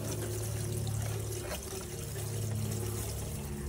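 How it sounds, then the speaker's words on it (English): Rainwater pours steadily into a plastic IBC tote, a constant close splashing rush over a low hum, with no pauses. "the water is going down into my tote now"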